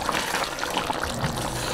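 A little water poured into a pan of chicken white karahi, giving a faint, brief trickle and splash with no talk over it.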